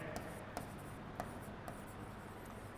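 Soft scratching strokes of a pen or chalk writing out equations during a hydrodynamics maths lesson, a few faint separate taps and scrapes close by in a quiet room.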